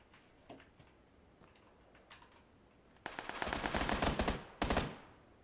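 Gunfire in PUBG Battlegrounds: a few scattered single shots, then a dense burst of rapid automatic fire and a second short volley, fairly loud over a quiet background.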